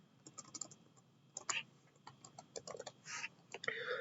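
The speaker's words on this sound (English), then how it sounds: "Let me type in correctly my username there." Keys clack in quick irregular bursts on a computer keyboard as a username is entered, close and fairly quiet, with short pauses between runs of strokes.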